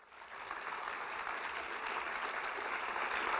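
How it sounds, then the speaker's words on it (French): Applause rises from the audience at a graduation ceremony, a broad, even clatter of many hands that swells slightly and holds steady, heard from some distance in the hall. "Applaudissez-les s'il vous plaît."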